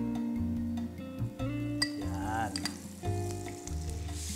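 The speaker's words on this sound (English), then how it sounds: "Now I'm going to start frying my pork chops or pork." Pork chops fry in olive oil and butter with a steady sizzle, accompanied by clinks of utensils against the pan and stirring sounds, close and fairly quiet.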